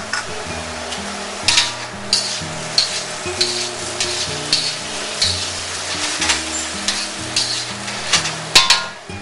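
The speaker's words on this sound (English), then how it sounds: "and then we're going to add the steak cubes back in." Cubes of ribeye steak sizzle in a thickened cornstarch stir-fry sauce, a steady frying hiss with scattered sharp clicks and spatters, close and fairly loud, over a background of tonal music.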